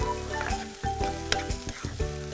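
Onion masala cooking with vegetables in a pan, a close, busy sizzle broken by repeated scraping and stirring strokes in an uneven rhythm.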